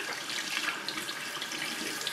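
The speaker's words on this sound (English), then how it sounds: "So that's why I rinse it out now." Water runs steadily from a salon sink faucet while hair is rinsed, making a continuous, moderately loud splashing hiss with no voices.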